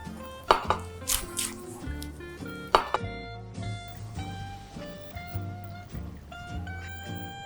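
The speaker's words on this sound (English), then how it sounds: "Now let's add a final touch, which is a fresh tarragon. Roughly chopped." A knife roughly chops fresh tarragon on a board, a close series of irregular knocks and taps mixed with clinks of kitchen utensils. The chopping is fairly quiet, no one talks, and soft tonal music plays underneath.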